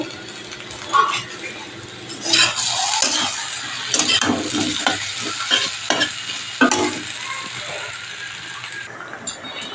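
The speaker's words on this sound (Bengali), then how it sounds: "কচুর লতি আর আলুকে। সুন্দর করে ফ্রাই হয়ে গেছে।" Taro stolons and potatoes frying in a pan, a close sizzle with repeated scraping and rattling stirs that come in bursts, a voice faintly underneath.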